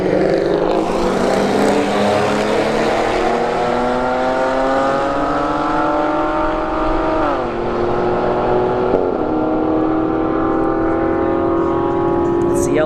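An Acura sedan and a ZL1 Camaro drag racing at Bradenton Motorsports Park street-heat night, loud engines roaring with rising pitch and audible gear shifts repeating as they pull away down the strip.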